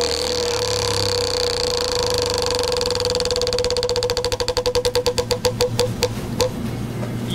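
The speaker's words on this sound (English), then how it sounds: "Let's give it a good hot spin." A prize wheel spun at a lottery agent drawing clicks past its pointer in a steady run that starts fast and slows toward the end, sounding close and over a constant background hum.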